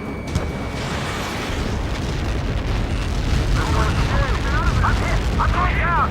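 Helios missile strike in the Ace Combat 7 video game, a heavy sustained rumbling explosion that roars continuously with crackling debris, loud and dense, with voices and radio chatter faintly mixed in.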